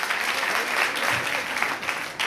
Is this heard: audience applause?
yes